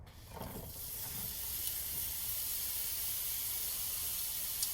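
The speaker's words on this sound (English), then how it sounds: "I know how much you guys like seeing the sizzle of my pan" Garlic and ginger sizzling in a pan for crispy salt and pepper shrimp, a steady close hiss after a brief clatter at the start, alone without talk.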